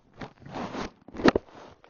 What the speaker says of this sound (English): Sorry for any noise. I'm putting the helmet on.